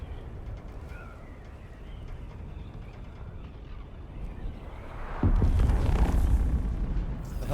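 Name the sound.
plane crash explosion in the video game Dune: Awakening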